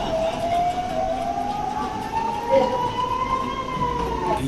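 Rising and falling siren wail of an air raid alert in Israel, sustained over a steady background, with a brief extra bump of noise midway.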